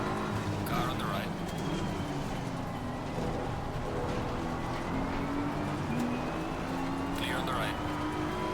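In Assetto Corsa Competizione, a race car's engine roars steadily on a lap of Barcelona, and another car draws alongside with a brief rising whoosh of engine noise. Spoken warnings come over the top.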